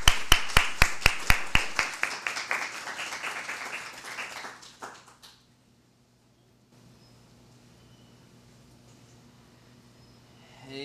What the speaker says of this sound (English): Please give a round of applause for Johnny Miller from Save One.